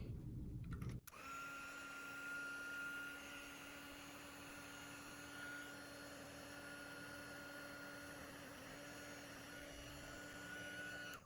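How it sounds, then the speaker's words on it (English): A heat gun switches on after a brief clatter and blows hot air in a steady, loud whirring hum with a constant whine, running close and unbroken to the end. "And grab my heat tool. If it's too loud, I'll probably just mute for"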